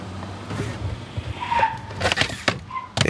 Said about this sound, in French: Et ils ont perdu le contrôle de la voiture